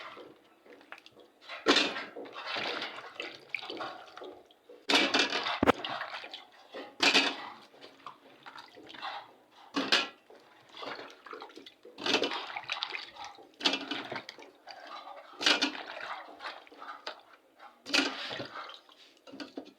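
Water runs and splashes in bursts as peeled yam is washed by hand in a village kitchen, with clattering of a bowl or pot between pours, close and fairly loud.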